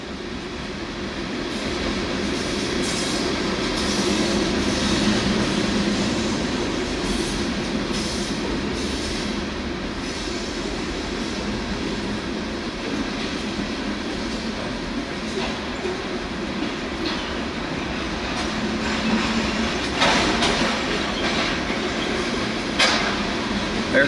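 Long freight cars of a giant 275-car, 36,000-ton train hauled by six engines roll by continuously, a sustained rumble with rhythmic clatter and occasional wheel squeals.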